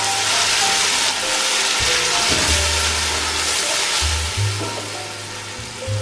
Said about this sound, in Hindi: अब ये चला गया है इसके अंदर आधा गिलास के करीब पानी।